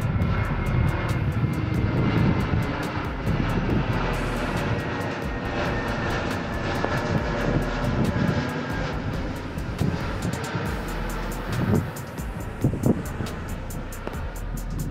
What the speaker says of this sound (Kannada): ಅದ್ರ ಮೇಲಿಂದನೇ ಫ್ಲೈಟ್ ಹೋಗ್ತಿರೋದು.